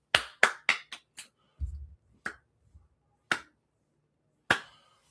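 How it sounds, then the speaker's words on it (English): Slow hand clapping, about eight sharp separate claps, a quick cluster at first and then widely spaced single claps, close and dry with a low thump partway through. "Me with the slow clap."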